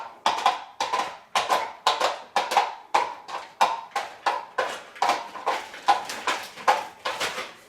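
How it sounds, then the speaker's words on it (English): Foley horse hooves made by knocking coconut shells or plastic bowls on the ground, a steady clip-clop trot of about twenty crisp hollow knocks, close and dry. "create your horse sound on the ground"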